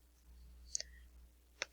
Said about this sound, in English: So I'm just going to select them all and press enter.